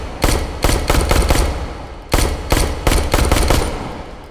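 Rapid 9mm blowback handgun shots ring out in the virtual-reality shooting game H3VR, loud and close, in two quick strings of about seven and six reports separated by a brief pause.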